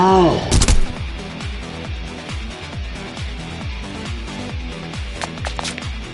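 A gunshot in the video game AI: The Somnium Files: one loud, sharp crack near the start, then a steady rhythmic backdrop of game music, with brief fainter spikes later.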